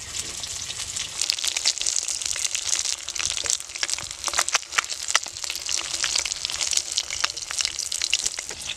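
Flipped tilapia fish frying in oil crackle and spit close up, with a steady bubbling hiss broken by frequent sharp pops and bursts of spattering throughout.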